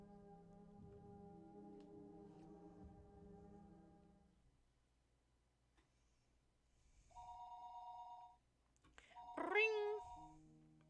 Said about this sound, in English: The phone rang noisily downstairs.